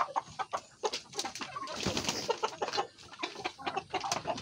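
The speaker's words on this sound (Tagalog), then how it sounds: "Mga manok natin." Backyard chickens cluck and call in quick, overlapping bursts as they gather eagerly for feed of water spinach, kangkong and corn, the birds close and fairly quiet with no talking.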